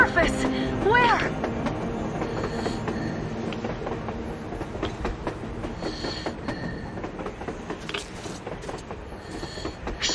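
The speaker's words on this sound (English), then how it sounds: "A damn train on the surface!" A train rolls past in the post-apocalyptic shooter Metro Exodus, a steady rumble with clattering wheels and metallic squeals that continues throughout, loud and fairly close.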